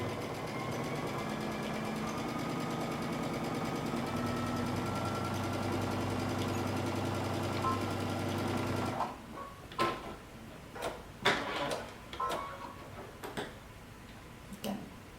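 A sewing machine stitches the bottom of a coat lining closed, running in a fast, steady mechanical chatter for about nine seconds, then stopping and giving way to a few separate clicks and ticks of handling.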